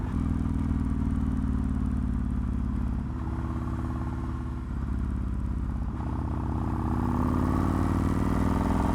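A Yamaha MT-01 1700cc V-twin motorcycle being ridden, its loud, steady low engine rumble continuous and close, with slight dips as the rear fishtails after the clutch is dumped.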